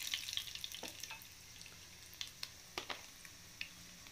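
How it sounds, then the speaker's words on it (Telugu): Cumin and coriander seeds frying in two tablespoons of hot oil, a faint, soft sizzle with a handful of small crackles and pops scattered over a few seconds. "కొద్దిగా జీలకర్ర ధనియాలు వేసి వీటిని బాగా వేయించుకోవాలి"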